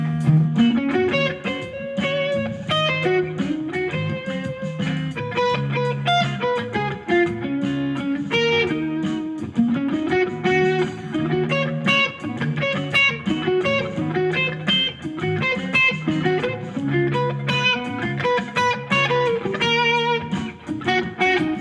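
Distorted electric guitar solos over chord accompaniment, building melodic motifs from chord tones only, with loud, steady phrasing and no voices.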